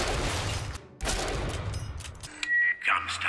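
Turret gunfire from BioShock Infinite rattles in loud, dense bursts that break off briefly near the start and then resume, ending in a rising whine and other game sounds.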